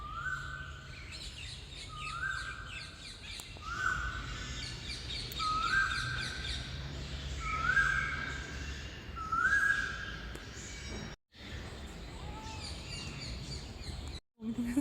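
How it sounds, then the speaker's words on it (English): Birds chirp outdoors in the morning, one bird repeating a clear rising whistle call at regular intervals with fainter chirps and background noise around it. "Birds chirping in the morning."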